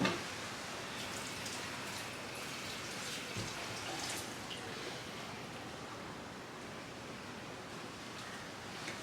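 Tap water runs in a steady, close hiss while pans are washed up after cooking watermelon sago, continuing unbroken and alone with no voices.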